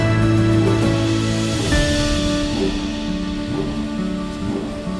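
Rain falls on garden plants during the rainy season, making a loud, steady, dense hiss that fills the whole stretch, with faint tonal background sounds running through it.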